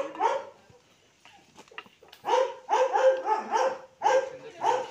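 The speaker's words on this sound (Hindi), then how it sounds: "ये लोग संग कुत्ता है क्या?" Dog barking outdoors during a snake rescue, a run of several sharp, fairly close barks with short gaps, starting with a single bark and then coming in a quicker burst, with faint human sounds in between.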